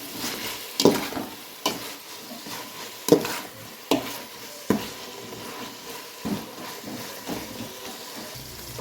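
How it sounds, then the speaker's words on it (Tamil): Chopped tomatoes are sautéed in a pan, giving a soft continuous sizzle with repeated sharp knocks and scrapes of a spoon as they are stirred, close and without speech. "நல்லா குழையிற வரைக்கும் வதக்கி விட்டுக்கலாம்."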